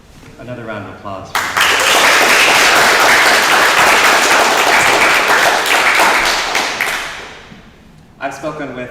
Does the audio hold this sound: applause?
yes